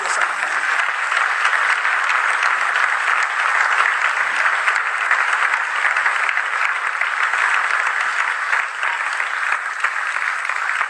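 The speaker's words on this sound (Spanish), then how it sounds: "Dele un aplauso al Rey en esta preciosa mañana." A church congregation breaks into loud, continuous applause during a morning service, a dense wash of clapping hands sustained evenly from start to finish.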